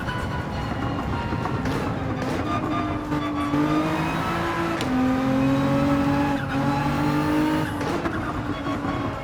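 Racing cars in Gran Turismo 7, including a GTR, drone steadily with layered engine tones that rise and fall as gears change, continuous and fairly loud with no talk.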